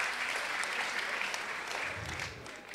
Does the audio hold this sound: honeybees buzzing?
no